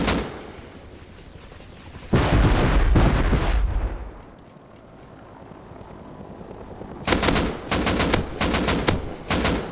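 Automatic AK rifle fire in the game Rust, aimed at an attack helicopter: a long loud burst, a quieter lull, then several rapid bursts in quick succession, with no talking.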